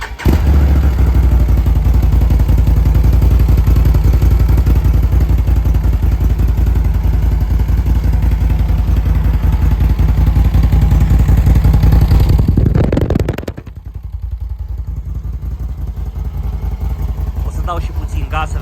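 A Can-Am Outlander 1000 XMR ATV with its original stock exhaust idles loudly and steadily up close, a throbbing rumble that dips briefly near the end before settling back to idle.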